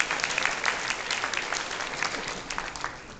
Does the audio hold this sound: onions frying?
no